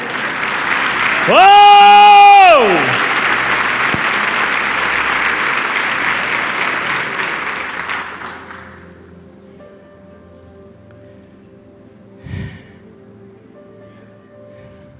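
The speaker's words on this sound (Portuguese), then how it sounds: "Aplauda Jesus aí." A church congregation breaks into loud sustained applause mixed with cheering, with a voice letting out a sliding exclamation early on; the clapping fades after several seconds into near quiet, broken by a single thump.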